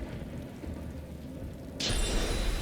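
Rain in the video game Divinity Original Sin 2 starts abruptly after a low, quiet stretch, becoming a steady, fairly loud broadband hiss that continues to the end.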